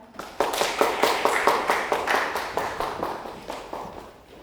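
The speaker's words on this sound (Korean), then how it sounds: "큰 박수 부탁드립니다" Audience clapping at a seminar session on generative AI and intellectual property, a loud, fairly close patter of many hands that swells and then tapers off near the end.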